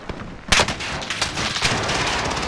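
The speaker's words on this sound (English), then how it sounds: "I get sniped from the stadium roof." A sharp, loud sniper shot cracks out in a Call of Duty: Modern Warfare match, followed by a rolling echo and further distant gunfire trailing off.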